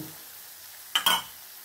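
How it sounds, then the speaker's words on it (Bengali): Raw mustard oil is poured onto a hot frying dish, a short burst of sharp sizzling that flares up and quickly dies away against a quiet background. "এবারে আমি ওপর থেকে একটু কাঁচা তেল দেব।"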